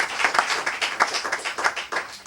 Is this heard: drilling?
no